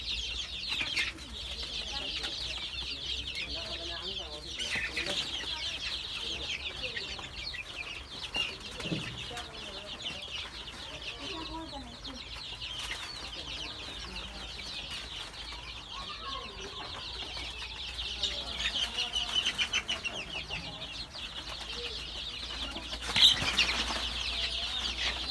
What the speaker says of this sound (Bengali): ১ মাসের মুরগির চাও।